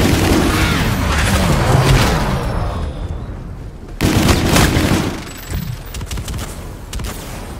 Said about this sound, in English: Your teammate called in some scorchers.